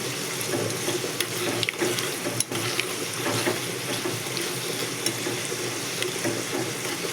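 Curry leaves fry in hot oil for a pickle, a dense, steady crackling hiss close up, with a few soft knocks and no talk.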